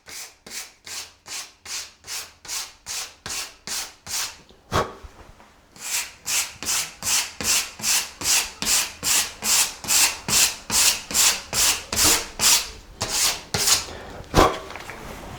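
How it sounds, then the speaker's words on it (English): Sandpaper rubbed by hand, very lightly, over a painted door: a steady run of about thirty quick, even rasping strokes, close and clear, with one short pause partway through and no talking. "We're going to take our sandpaper, once again, very, very lightly."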